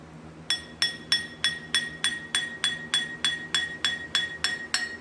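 Steady hammer strikes on babbitt bearing metal, around a dozen, each giving a bright, loud ringing ping that lingers briefly; close up with no talking.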